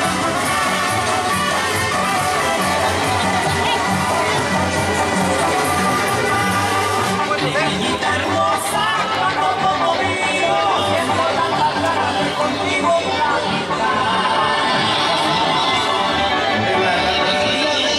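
A rodeo crowd cheering and applauding, a dense continuous roar of voices and clapping with talk mixed in throughout.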